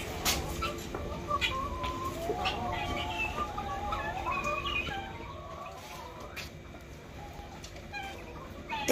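Chickens at a farm in Italy clucking and calling softly in a scattered, irregular chorus over quiet background noise, with a brief voice at the end.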